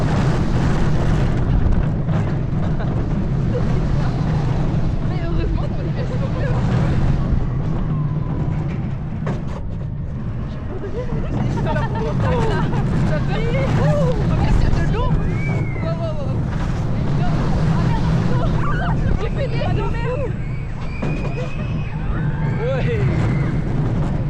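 A roller coaster drop at Walibi Belgium, with loud rushing wind buffeting the microphone and the roar of the ride, while riders shout and scream throughout.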